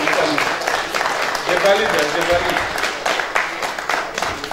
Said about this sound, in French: Donc, on peut applaudir pour vous, s'il vous plaît.